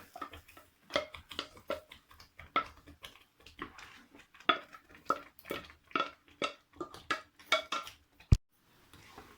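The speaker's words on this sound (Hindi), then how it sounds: "इसको अब मुसलसल हिलाते रहना है, एक तो सूजी मिक्स हो जाए इसमें और गुठलियाँ भी ना बने।" A spoon scrapes and clinks steadily against a pan while pumpkin is stirred into semolina halwa on a low flame, quiet rhythmic knocks repeating about twice a second, ending with one sharp tap.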